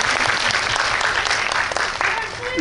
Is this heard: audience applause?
yes